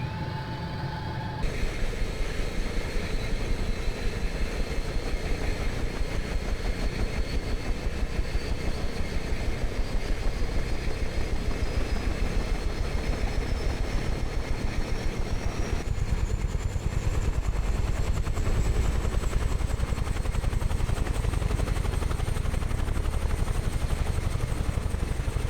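Turbine engine of a UH-1H Huey helicopter spooling up in a flight simulator, a steady loud whine rising slowly in pitch over a constant roar, growing heavier and fuller partway through.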